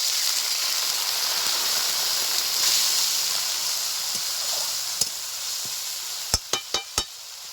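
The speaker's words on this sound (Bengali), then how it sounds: "একটা টমেটো নিয়েছি এখন দিয়ে দিচ্ছি সামান্য একটু গরম জল" A pan of Bengali-style chicken curry with tomato and winter vegetables gives off a steady hiss as a little hot water goes in, and a few sharp taps close the sizzle.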